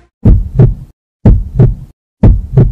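Heartbeat sound effect from an advertisement: three loud, deep lub-dub double thumps spaced about a second apart, separated by silence.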